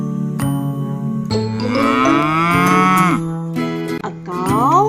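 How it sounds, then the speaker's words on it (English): A cow gives a loud, close, drawn-out moo that rises and falls, then a second shorter moo starts near the end, with no talking. "What sound does a cow make?"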